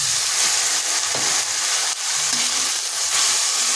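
A little water is poured onto ground turmeric, cumin, coriander and chili powder frying in a pan, producing a loud, close, continuous sizzling hiss with a brief dip midway.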